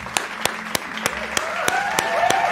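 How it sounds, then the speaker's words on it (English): Eight or nine sharp hand claps in a steady, evenly spaced rhythm, close and crisp, with a faint voice or tone lingering underneath. "We're gonna clap it up."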